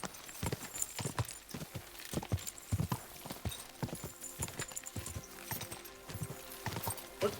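A horse in the medieval role-playing game Kingdom Come: Deliverance 2, hooves clip-clopping in an uneven trotting rhythm close by, with a brief whinny mixed among the footfalls.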